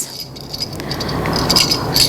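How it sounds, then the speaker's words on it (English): A baby rattle is shaken in a classroom setting, giving a faint, scattered series of small clicking and jingling shakes that pick up toward the end, with no talk over it. "this is the sound of the rattle,"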